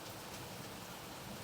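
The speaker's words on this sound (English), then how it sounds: "I apologize for the rain sound in the background because it's suddenly thunderstorm in the bright daylight" Steady rain pouring down during a sudden daytime thunderstorm, a continuous even hiss of drops on surfaces, fairly faint and constant throughout with no voices.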